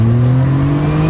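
A Nissan GTR engine revs hard and close, a strong steady drone that climbs slightly in pitch throughout, with no talk over it.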